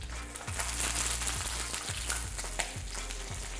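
Sous vide chicken skin browning on a grill or in a sauté pan: a steady, loud sizzle with periodic sharper crackles and pops, close up and without talk.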